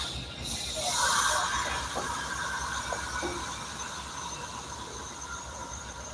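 A train pulls out at a station, a low rolling rumble with a brief hiss and light metallic squeal early on, heard from a distance and fairly quiet.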